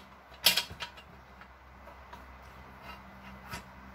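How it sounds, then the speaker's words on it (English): A wrench turns the transmission shaft of a 4L70E transmission to break it free, producing a sharp metallic creak and click near the start followed by a few fainter creaks and ticks in a quiet room. "take your wrench and kind of rotate the shaft in so it breaks free"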